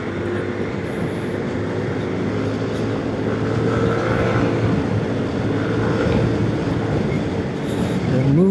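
A train rumbles past nearby, a steady broad roar under the wind noise of a Yamaha Nmax Techmax Turbo scooter on a Sunday morning ride in Jakarta traffic, with a low drone holding throughout.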